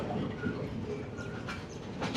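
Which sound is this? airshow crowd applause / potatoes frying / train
train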